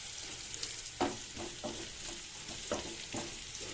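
Onion and curry leaves fry in a pan for a sambar, giving a steady close sizzle broken by several sharp crackles and stirring scrapes, with no talk.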